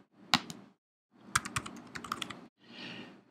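Login details typed on a computer keyboard: bursts of crisp key clicks with short pauses between groups, close and fairly quiet, no voices.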